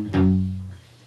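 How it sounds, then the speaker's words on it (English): Palm-muted electric guitar riff on the low sixth string, a single dull chugging attack that decays over about a second, played alone. "It's palm muted and it's just on your 6th string."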